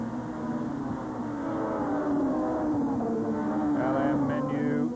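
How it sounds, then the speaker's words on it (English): BTCC touring cars race around Oulton Park, a steady engine drone rising slightly as they pass, with faint crowd or track noise mixed in and no voices over it. "They stand on the brakes, go from 6th gear down to 2nd to get through that"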